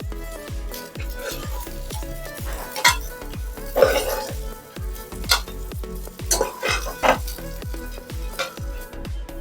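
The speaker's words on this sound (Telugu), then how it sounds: "అన్ని వైపులా కూడా బాగా వేగేటట్టు వేయించుకోవాలా ఈ ఆయిల్లో రెండు మూడు నిమిషాలు ఇట్లా వేయించుకున్న తర్వాత" Boiled eggs frying in oil in a pan and being turned, with a steady sizzle, repeated low stirring knocks and occasional sharper clinks of a utensil against the pan.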